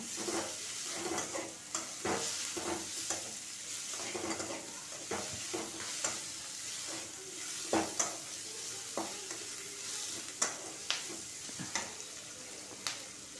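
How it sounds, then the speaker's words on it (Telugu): Food frying in a pan, a steady quiet sizzle broken by repeated scraping stirs at an irregular rhythm, close and fairly faint. "ఇక చూడండి, బాగా వేగుతుంది."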